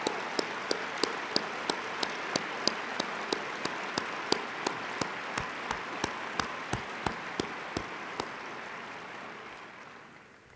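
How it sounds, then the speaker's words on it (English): Keynote audience giving warm applause, a diffuse wash of many hands with sharper individual claps standing out at a fairly regular beat, steady for several seconds before fading away. "I think you want to give Dustin and all his colleagues a very, very warm clap"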